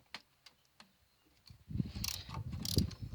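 A wrench breaks loose a 15 mm pulley bolt while a power steering pump is removed from a 2000-2003 Mercury Sable; a few faint, spaced ticks come first, then a louder stretch of metallic ratcheting and clanking.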